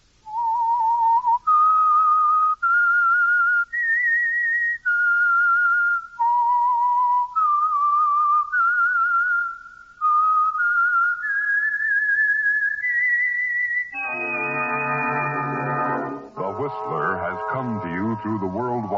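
The whistled theme tune of The Whistler radio show: a clear, close melody of separate whistled notes, followed by a brief swelling orchestral sting at the end.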